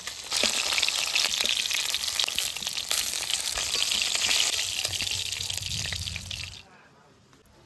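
Snakehead (shol) fish fry in a hot wok with a loud, continuous sizzle and crackle that stops abruptly near the end, leaving near silence.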